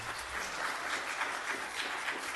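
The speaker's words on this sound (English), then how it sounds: "please refrain from clapping, cheering as we like to continue" Audience applause at a county board of supervisors meeting: steady, dense clapping from a crowd throughout, fairly loud and continuous with no talk over it.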